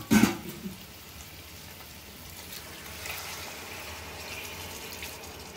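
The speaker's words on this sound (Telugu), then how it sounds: "ఇప్పుడైతే కొన్ని వాటర్ పోసుకుంటున్నా." Water is poured into a fish curry masala with coconut powder and tamarind in a pan, cooked outdoors on a riverbank; a brief clatter opens, then a soft, steady trickling hiss runs for several seconds, faint and unaccompanied by talk.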